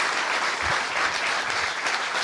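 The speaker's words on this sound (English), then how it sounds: "How about a round of applause for your cops, your law enforcement?" Crowd applause for local police at an outdoor key-to-the-city ceremony in Elvis's Mississippi hometown: dense, steady clapping filling the whole two seconds, loud and close, with no speech.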